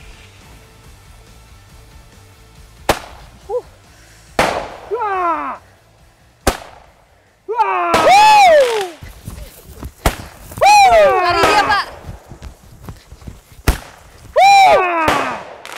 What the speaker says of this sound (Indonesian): Penggunaan suara keras dari petasan diharapkan dapat membuat gajah menjauh dari perkebunan warga